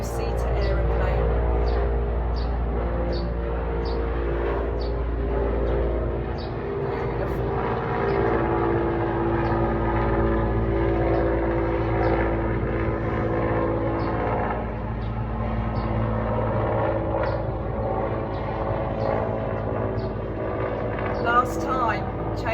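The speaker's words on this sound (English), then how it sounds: "It was actually a helicopter." A helicopter flying overhead makes a low, droning engine rumble with a steady, buzzing pulse that lingers throughout, while a calm voice talks over it.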